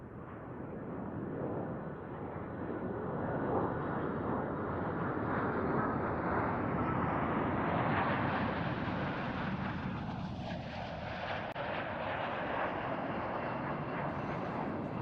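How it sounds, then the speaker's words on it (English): A military formation of a Boeing RC-135W Rivet Joint, Gripen, Mirage 2000 and Tornado flying over an airshow, giving a steady, broad jet roar that swells and slowly shifts in pitch as the formation passes. "In the lead, the Boeing RC-135W Rivet joint from number 51 Squadron at RAF Waddington."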